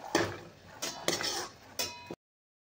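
Fried potatoes and peas for an aloo matar sabzi scraped onto a plate with a metal spoon, giving four distinct clinks and scrapes of utensil against dish, close and fairly quiet, with no talk.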